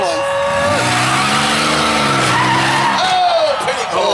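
Minivans in a demolition derby skid and squeal their tires loudly under a roaring engine, with an announcer talking over the continuous screech.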